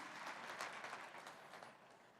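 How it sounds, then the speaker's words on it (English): A conference hall audience applauds on a main stage, giving a dense, even wash of many hands clapping. It is faint and distant and fades slightly toward the end. "can I get a big round of applause for all of the amazing women that we have here in the"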